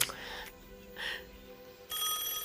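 A telephone bell rings in a 1991 thriller film, loud repeated bursts separated by brief pauses, with a faint background wash and no words spoken.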